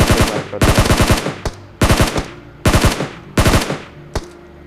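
Automatic gunfire in a battle royale shooter video game, fired in about five loud, close bursts of rapid shots separated by short pauses, with one lone shot near the end.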